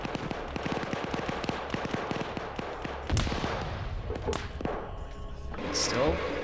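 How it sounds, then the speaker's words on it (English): A BTR vehicle's mounted gun fires in a war video game as a rapid string of sharp, cracking shots, followed by a heavy bang and scattered impacts, with a voice faintly underneath. "I'm going to get back in that BTR and continue to use the gun if it's still up."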